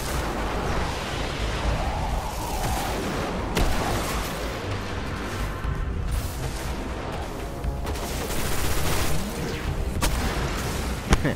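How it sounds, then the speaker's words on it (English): Auto rifle gunfire in the Destiny video game, The Taken King expansion, as dense, sustained bursts of shooting and booming impacts that run loud and continuous through the whole stretch, with no speech. "This auto rifle, man, the recoil. Ouch."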